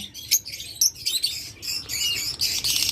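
A pair of clear-headed opaline lovebirds chirping close by, with quick high chattering calls in bursts that grow busier toward the end.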